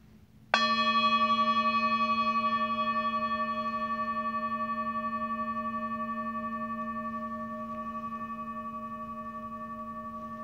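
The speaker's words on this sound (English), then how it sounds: "I'll sound the bell and I'll start to guide us through the practice." A single meditation bell is struck once and then rings on with a clear, steady, bright tone. The rich overtones hold for about ten seconds and fade only slowly in a quiet room.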